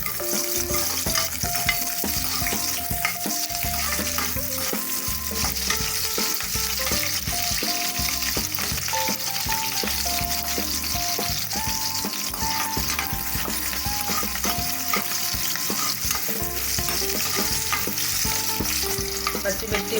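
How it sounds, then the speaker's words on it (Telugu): Green chillies fry in hot oil for egg biryani, giving a steady, dense sizzle with constant stirring and faint clinks of a spoon, close and continuous throughout. "పచ్చిమిర్చి 1 నిమిషం వేగిన తర్వాత ఉల్లిపాయలు,"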